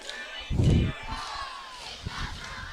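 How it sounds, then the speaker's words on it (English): A high school varsity football crowd cheers loudly while the other team has the ball, with a sharp burst of shouting followed by lingering crowd noise and a commentator's voice over it. "Bruins crowd is loud at this time, cheering on defense."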